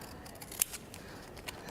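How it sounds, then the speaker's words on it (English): Scissors snipping pieces out of self-adhesive paper, a few faint crisp cuts with one sharper snip, close but quiet over low room noise. "So I'm just going to snip these out."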